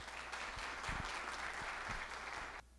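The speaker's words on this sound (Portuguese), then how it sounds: "Uma salva de palmas." An audience at a lecture on compliance and business ethics gives a round of applause, heard as faint, distant-sounding dense clapping that cuts off abruptly near the end.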